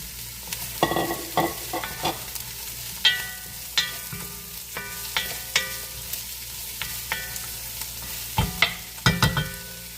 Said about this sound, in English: get the pan nice and hot. Put your onions, celery, and garlic in.